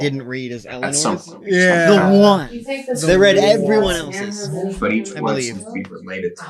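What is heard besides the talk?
None of the usual background noises is heard.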